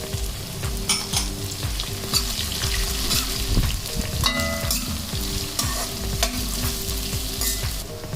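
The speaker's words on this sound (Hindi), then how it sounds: "तो मैं इन सब्जियों को हल्का फ्राई करूंगी क्रिस्प करने के लिए।" Carrot, cabbage and beans fry on low heat in a pan, a steady sizzle under frequent rhythmic scraping and knocking of a stirring spoon.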